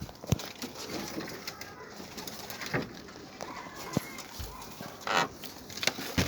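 Pigeons in a new loft coo repeatedly at close range, with low rolling calls and scattered wing flutters and rustling, including a young grizzle bird just learning to fly; no one talks.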